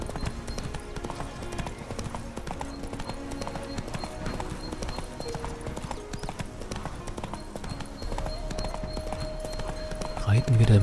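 Roach, the horse in The Witcher 3, trots along with steady rhythmic hoof clip-clops under game music and someone talking, growing louder near the end.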